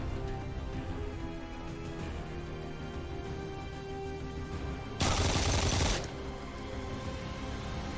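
Gunfire in the tactical game Phantom Doctrine as a unit is shot through a garbage can: a single loud burst of shots about a second long cuts through steady background game music.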